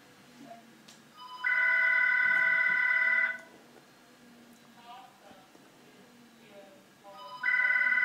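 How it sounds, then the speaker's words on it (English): A telephone rings in two loud electronic bursts, one long trill then a pause, with a second ring starting at the end; faint talk sits underneath. "Now the phone is ringing."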